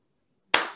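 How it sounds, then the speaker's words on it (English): A single sharp hand clap from a meditation teacher rings out alone after near silence, close and loud, with a brief room decay. "When you hear me clap my hand, magnify the feeling tone of divine love times 50."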